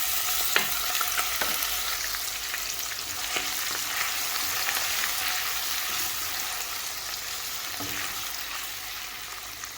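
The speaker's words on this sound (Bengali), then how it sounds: "এখন রসুনটা লাল হয়ে আইছে তো আমি দিয়া দিন এমন আন্দাজ মতো পেঁয়াজ কাটা" Sliced onion frying with browned garlic in hot oil, a dense, loud and continuous sizzle with faint scattered pops and stirring clicks throughout, no voices.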